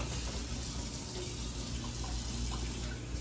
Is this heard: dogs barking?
no